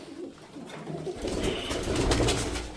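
Pigeons coo on a breeding farm, their soft throaty calls blending into a steady, fairly close flock murmur that grows fuller and louder partway through.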